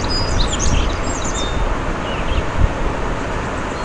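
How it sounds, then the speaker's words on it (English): Birds sing and tweet in scattered high calls over steady wind and a broad rushing wash by a river, with no voices. "Bird song in the river"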